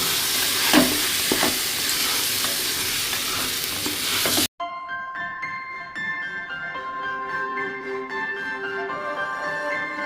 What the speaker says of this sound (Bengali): গোবিন্দভোগ চালটা দেওয়া হয়ে গেছে এবারে আমি এটাকে চালগুলোকে ভাজতে থাকবো